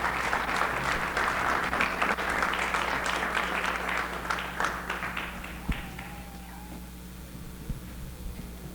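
Steady applause from a ceremony audience at a sports hall of fame induction fills the room, dense and sustained, then thins into a few scattered claps and tails off.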